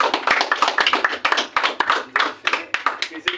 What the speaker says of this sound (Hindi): एलिना के लिए जोर से तालियां बजाएं सब लोग।